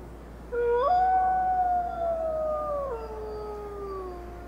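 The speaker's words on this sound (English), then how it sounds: "Wolf howls generally are very long, too." A three-month-old wolf pup from Oregon's Snake River pack howls in the wild in July, a long, rising, wavering tone with faint overlapping voices of other pups, fairly distant and thin against a steady low background hum.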